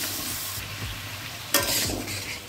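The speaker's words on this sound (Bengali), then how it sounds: "হলুদ লবণের সঙ্গে 2 মিনিট কষিয়ে নিলাম" Taro pieces sautéing with turmeric and salt in a pan, a steady hiss of frying with spatula scrapes and a louder burst of sizzle midway, close and alone.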